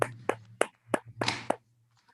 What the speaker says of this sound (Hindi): और भाई इस प्लान के लिए जोरदार तालियां